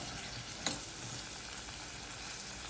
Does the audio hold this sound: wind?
no